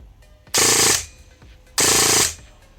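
A blaster fitted with a Solink 35k brushless motor on 11.1 volts fires two loud, fast full-auto bursts of about half a second each, separated by a short pause, with no talking.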